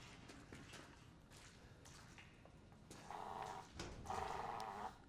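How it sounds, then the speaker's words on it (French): A real dog growls quietly in a room while a Resident Evil 7 game plays, low rumbling bursts rising near the end over a faint background. "le chien qui grogne par contre c'est pas dans le jeu"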